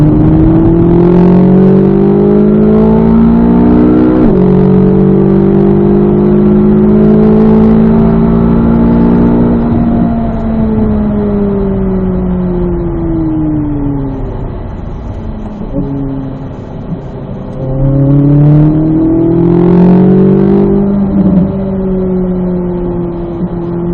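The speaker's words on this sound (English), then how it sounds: "Two more laps here, Glenn." A Corvette Z06 lapping a race track, its engine loud and close as it revs up through the gears, drops back on lift-off and climbs again, with sweeping pitch rises and falls along the straights and corners.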